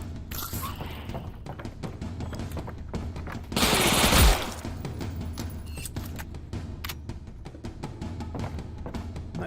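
Scorpion submachine gun fire in the video game Gunman Contracts: rapid, sharp shots in a continuous rattling stream, with a louder, denser burst in the middle, heard alone without talk.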